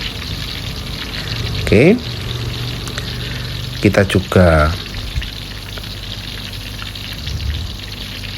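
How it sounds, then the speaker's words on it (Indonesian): Hot oil is ladled over tempe as it deep-fries for crispy fried tempe, giving a steady close sizzle with brief louder splashing bursts as the oil is poured, while a person talks briefly over it. "mengalirkan ya minyak panas ini ke atas tempe ya"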